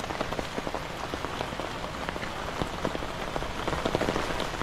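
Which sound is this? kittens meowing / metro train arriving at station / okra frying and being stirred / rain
rain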